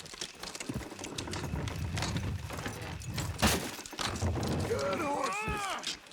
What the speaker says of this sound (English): Good horses.